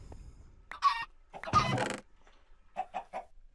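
Chickens cluck in a video game: a few separate clucks and squawks spaced out over a few seconds, fairly faint and with no talking.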